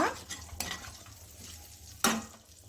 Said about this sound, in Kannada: ಇಷ್ಟು ಈ ಎಣ್ಣೆಗೆ ಸೇರಿಸ್ಕೊಳ್ತಾ ಇದ್ದೀನಿ